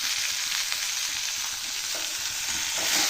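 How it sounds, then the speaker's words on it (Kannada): Palak spinach fries in hot oil with chillies and garlic, making a loud, continuous sizzle up close, with a few soft stirring scrapes and no voices. "ಆಮೇಲೆ ಇವಾಗ ಏನಂದ್ರೆ ಪಾಲಕ್ ಸೊಪ್ಪು ಹಾಕ್ತೀನಿ."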